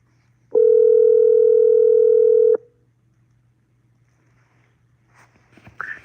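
A steady telephone call tone sounds for about two seconds, loud and close over a low hum, then stops, leaving near-silence and faint rustling handling noises.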